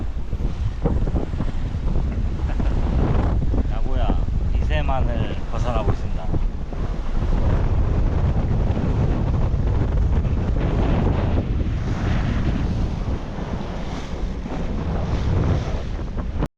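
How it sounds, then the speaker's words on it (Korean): A sailboat runs under wind power on the open sea off Japan, with strong continuous wind buffeting the microphone, rushing water and waves along the hull, and a voice briefly talking over it. "최대한 바람을 이용해서 자 신나는 세일링입니다"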